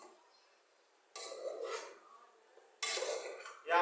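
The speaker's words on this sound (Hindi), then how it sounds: "फ्लेम को स्लो करेंगे, इसको मसाले में मिक्स करेंगे" Taro pieces being stirred into masala in a pot over low flame, two bursts of metal spoon scraping and clinking against the pot amid near-quiet.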